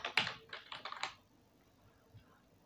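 Quick keystrokes on a computer keyboard while typing in Microsoft Word, a short burst of several close clicks followed by near quiet and one faint tap.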